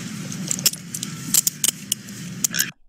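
Metal police handcuffs ratchet tight around a wrist, giving a scattering of sharp metallic clicks and jangles over a steady low rumble from a nearby car.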